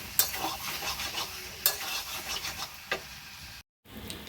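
Chicken pieces are stir-fried in oil in a pan, with continuous scraping and stirring strokes over a soft sizzle, briefly cut to silence near the end.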